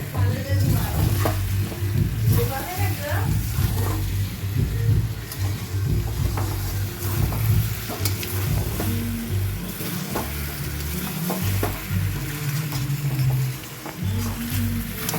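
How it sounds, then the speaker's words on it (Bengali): Onions frying in oil for a goat meat curry, with steady sizzling and repeated scraping and stirring strokes of a spoon against the pan, loud and close throughout, no talk. "এই দিকে তো দেখছো খাসির মাংসর জন্য পেঁয়াজ ভাজা হচ্ছে, পেঁয়াজ ভাজছে।"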